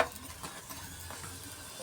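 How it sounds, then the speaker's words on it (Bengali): A paratha frying in a pan makes a faint, steady sizzle with a few soft bursts, heard alone at low level. "আর এই যে পরোটা ভাজা চলছে দেখো।"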